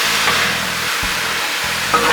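Caribbean jerk shrimp stir fry sizzles steadily on a Blackstone griddle, a constant hiss of frying with faint low engine-like hum underneath, with no talking.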